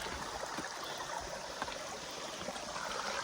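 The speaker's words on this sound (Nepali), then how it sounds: "यो त यता चाहिँ यस्तरी बगिरहेको छ पानी" Stream water flows and trickles over stones on a trekking path, a steady, soft babbling wash with no voices over it.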